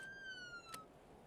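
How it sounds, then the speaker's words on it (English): Electronic vehicle siren from the Arctic Rescue game, a single steady high tone sweeping slightly downward, fairly faint, with a brief click near the end and no talk. "We do have a siren."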